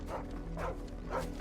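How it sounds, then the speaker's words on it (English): Dog barks in the Final Fantasy XVI video game, three short barks spaced evenly over steady in-game background hum, fairly close and moderately loud. "Oh, a doggy."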